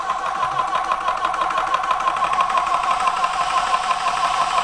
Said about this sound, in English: when I hit the on-off, you're gonna hear this main fan sort of drop a little bit and then come right back up.